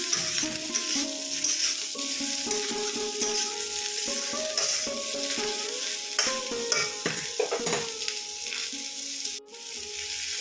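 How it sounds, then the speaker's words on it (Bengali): Potatoes and jackfruit stir-frying in oil in a pan, a steady sizzle running throughout with repeated scraping and clanking strokes of a spatula against the metal, close and fairly loud with no talking. "এবার আলু আর এঁচোড়টা আরেকবার নেড়ে ছেড়ে ভেজে দিলাম"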